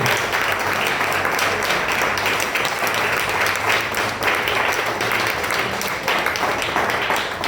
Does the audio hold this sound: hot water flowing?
no